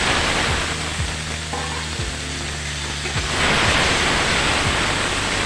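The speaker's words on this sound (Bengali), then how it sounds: "এখন আমি মাছ ভাজার তেলে পটল আর আলুগুলো কেটে রেখেছিলাম সেগুলো ভেজে নেব।" Cut pointed gourd and potato pieces frying in a wok, in oil left over from frying fish, give a steady close sizzle with a few soft utensil knocks. The sizzle grows a little louder toward the end.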